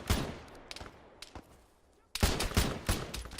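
Gunfire in the video game Antistasi on Tanoa: sharp bursts of shots, a few scattered cracks and then a dense volley of rapid fire near the end, loud and close with no talking.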